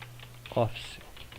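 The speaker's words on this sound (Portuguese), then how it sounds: "É só digitar, né, LibreOffice." A computer keyboard types out LibreOffice in an application search on Sabayon Linux 17.03 with XFCE: a short, close cluster of key clicks over a quiet, steady background hum.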